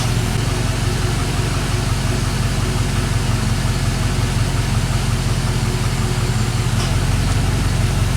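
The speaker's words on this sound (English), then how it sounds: "Well, our engine running good." A Chevy Silverado engine idles steadily after repair on a faulty intake valve, a smooth, even low rumble heard close up without a break and with no voices over it.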